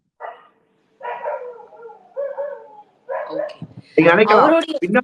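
A voice imitates a dog barking, giving a string of loud, close bark-like yelps and howls with short pauses between them, rising to a busier burst near the end.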